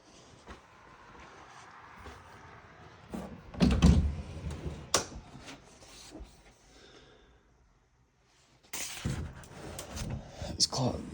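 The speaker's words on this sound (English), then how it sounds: "These closet doors are a little hard to open and close." Closet doors in a snowy-view bedroom are opened and closed, making a heavy sliding rumble with thuds in two bursts amid quieter room sounds and a voice speaking.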